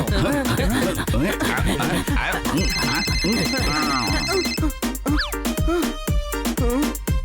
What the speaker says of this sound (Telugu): ఇన్స్పెక్టర్ పాండా, మీకెవరో కాల్ చేస్తున్నారు.